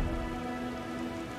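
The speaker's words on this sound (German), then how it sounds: "Es regnet." Steady rain pours in the video game Elden Ring, a dense continuous hiss with no break across the moment and no voices over it.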